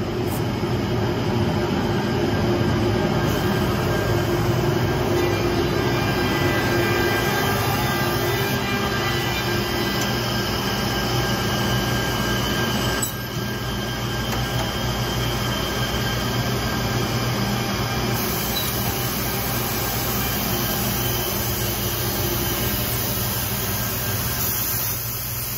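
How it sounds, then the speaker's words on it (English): An Altendorf F-Series edgebanding machine runs a panel through its corner rounder, flat scraper, sprayer and buffing stations, producing a steady loud mechanical drone with a high whine and rumbling transport noise throughout, no voices. "You can see that corner rounder working. Goes through the flat scraper, the sprayer, the buffing"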